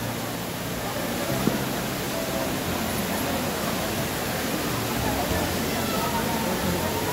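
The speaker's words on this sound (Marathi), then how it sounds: "आणि आपण हे आडोशी गावामधलं हे धबधबा आहे." A waterfall at Adoshi village roars as a constant, broad wash of rushing water close by, steady and unbroken, with a single brief knock near the start.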